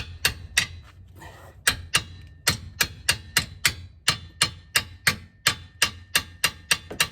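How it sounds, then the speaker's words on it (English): A hammer knocks repeatedly on the end of a jammed Honda S2000 strut during a coilover install, sharp close metal strikes about every half second after a brief pause at the start. "take a hammer and then knock the end like this"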